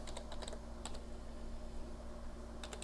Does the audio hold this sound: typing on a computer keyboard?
yes